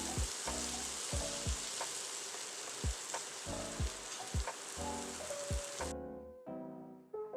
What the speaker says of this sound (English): Add in the chopped tomatoes and let it cook.